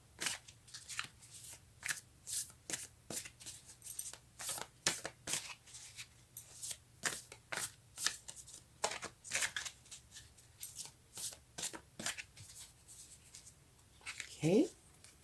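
A deck of oracle cards shuffled by hand for a reading, a long run of quick, crisp riffling snaps and flicks repeating steadily up close, with a brief voice near the end.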